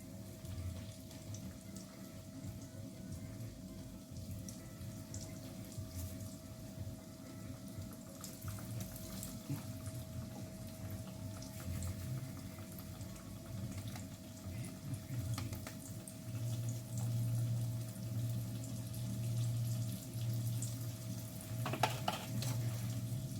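Donut-style beignets fry in hot oil with a quiet, steady sizzle and faint bubbling that holds evenly throughout, with no talking.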